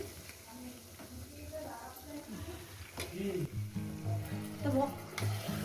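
Chicken pieces for a chicken curry sizzle quietly in a pan, with stirring scrapes, while someone talks over the frying.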